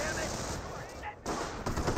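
Rapid rifle fire from G43 semi-automatic rifles in a Company of Heroes battle, a dense continuous crackle of shots with a brief lull in the middle before the volley resumes.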